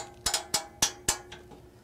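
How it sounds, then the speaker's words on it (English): Metal clamp being fitted onto a StoneAge ABX-2L fin fan kit, giving four or five sharp ratcheting clicks at irregular intervals, close and fairly quiet, with no talking. "I'll go ahead and install the second clamp."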